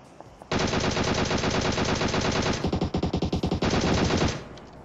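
Sustained bursts of rapid automatic gunfire in PUBG Mobile, loud and close, with a brief pulsing pause midway before firing resumes and cuts off.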